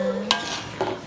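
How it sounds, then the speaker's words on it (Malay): Metal spatula scraping and stirring sambal in a wok, two quick rasping strokes about half a second apart, close and clear over a faint background hum. "Keruk kuali tu. Biar nampak semenggah sikit."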